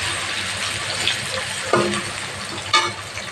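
Grated ginger fries in hot oil in a pan, making a steady close sizzle with a couple of brief louder crackling bursts as it is stirred.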